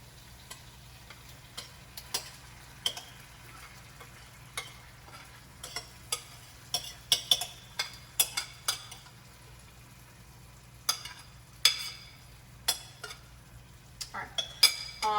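Garlic added to a pot of pizza beans and stirred, quiet background simmer broken by a series of sharp spoon clinks and scrapes against the pot, irregular and growing busier toward the end.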